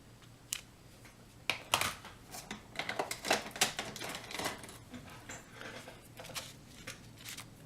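Scissors trim the paper of a pizza box close by in a quick, irregular run of crisp cuts, with short pauses between them.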